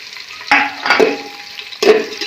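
Onion and green chilies frying in oil, with a steady close sizzle broken by a few sharp spatula scrapes and clanks against the pan.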